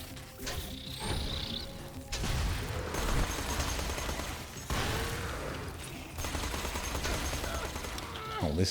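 Rapid gunfire and crashing bursts from an incinerator gun in Borderlands 2, loud and continuous across the stretch and layered over dense game noise, with a voice talking now and then.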